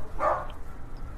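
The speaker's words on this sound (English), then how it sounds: "Y'all gotta excuse the dogs barking." Dogs bark once in a single short burst, fairly close, against a quiet room background with no talking.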